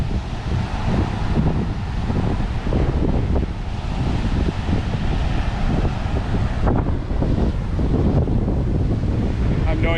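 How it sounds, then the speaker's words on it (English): Strong wind buffets the microphone on a Gulf Shores beach, a steady loud roar with surf washing underneath throughout. "A bit windy today."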